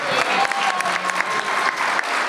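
Dense, steady audience applause fills a convention hall for a voice actor at a fan convention guest panel, a continuous close wash of many hands clapping with faint crowd murmur underneath.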